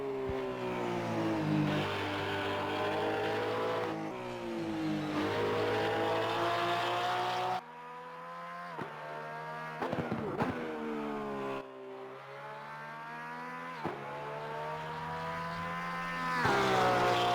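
Porsche 992 GT3 R race engine in Assetto Corsa Competizione at Spa, loud and close with rising harmonic revs, abrupt upshifts and drops on lifting off the throttle, building to another hard acceleration near the end.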